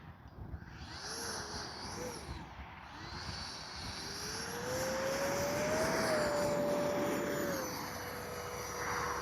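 X-Fly Swift 2100 64mm electric ducted fan RC jet flying with flaps up on a landing approach, giving a steady whine that climbs and holds in pitch while swelling louder, with broadband rushing air underneath.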